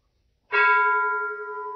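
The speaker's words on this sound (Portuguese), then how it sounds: "Esse toque de sino é o fim da atividade de hoje." A single bell struck once to close a zazen meditation session, a clean attack followed by a long, steady ringing tone with clear overtones that slowly fades, heard alone in a quiet room.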